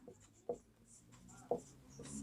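Chalk or marker strokes on a board while a trigonometry problem is worked out: several short, close scraping taps in an irregular rhythm, quiet, with no talk over them.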